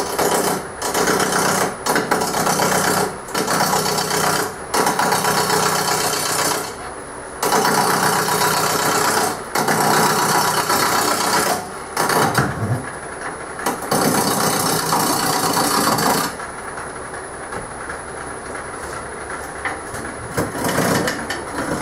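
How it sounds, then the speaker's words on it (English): Wood lathe roughing out a 4.5-inch-square blank for a lidded box at about 475 RPM, the tool cutting in loud, steady stretches broken by brief pauses, with a constant motor hum underneath. "So I'm going to start roughing out about 475 RPM"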